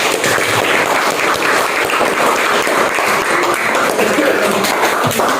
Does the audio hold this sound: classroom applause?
yes